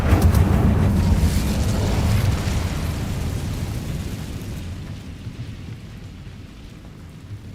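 A fire spell cast in the video game Hogwarts Legacy gives a loud, roaring burst that rumbles heavily at first, then slowly fades and thins over several seconds, with no voices.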